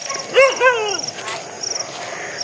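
On a farm at night, a dog gives two quick, fairly close barks, with crickets chirping steadily in the background.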